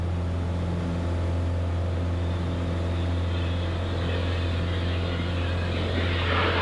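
A Piper Tomahawk propeller airplane accelerates down the runway at takeoff, a loud, steady droning engine hum heard from inside the cabin, with rushing wind and a rising roar toward the end.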